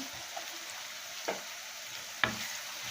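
Curry leaves hit hot oil for a country chicken curry, producing a constant close hiss of sizzling punctuated by two sharp crackling spatters.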